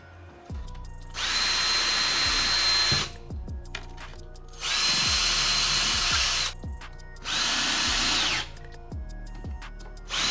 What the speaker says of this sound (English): So if you pilot drill,